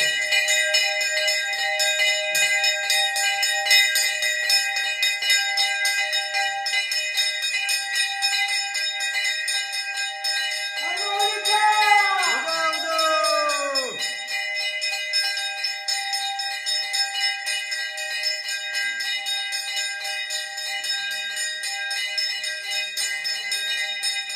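Temple bells at a Konkan village Gavtakni ritual, ringing in a short cluster of bright, overlapping strikes midway, set against a constant high-pitched whine and hum.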